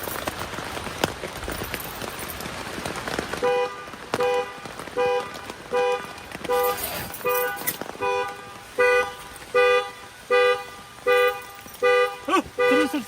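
A car alarm honks in steady, evenly spaced bursts from about a third of the way in, sounding over a constant patter of rain on a surface at a campsite.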